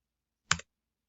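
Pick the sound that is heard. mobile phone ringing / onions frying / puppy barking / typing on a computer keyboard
typing on a computer keyboard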